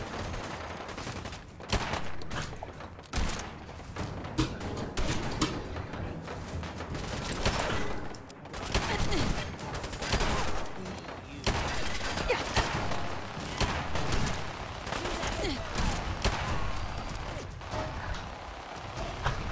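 Dense, continuous turret gunfire in Fallout 4 near a raider base, loud automatic bursts with mechanical clatter and impacts running almost without pause for nearly twenty seconds.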